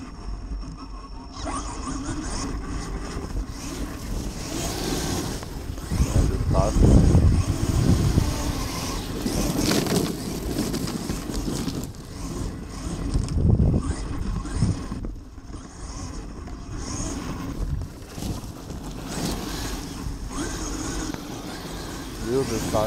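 Arrma Kraton 8S EXB RC car run at high throttle, its motor whining with rising and falling surges over a steady rumble of wind and ground noise, with people talking intermittently.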